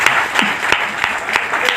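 An audience claps together at a gathering, a brief burst of brisk, dense applause with sharp individual claps standing out, loud and close.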